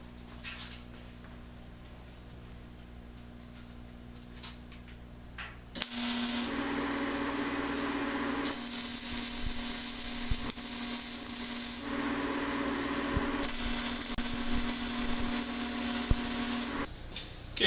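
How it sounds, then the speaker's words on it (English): A welder joins a K-brace to a 1968–1972 Chevelle in three long bursts of close, steady hissing arc noise, each lasting a few seconds and separated by brief pauses and faint shop clatter. "So we'll go ahead and weld this in."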